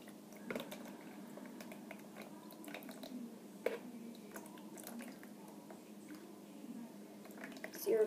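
Curdled milk being squeezed by hand to press out its liquid, giving faint, wet squishing and occasional soft drips at close range over a low steady background.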